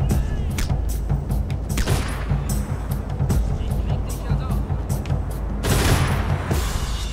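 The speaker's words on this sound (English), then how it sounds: "how the hell am I missing these shots?" Rapid bursts of gunfire crack repeatedly in the video game Velvet Assassin, dense and loud throughout, with a heavier volley near the end and a voice faintly underneath.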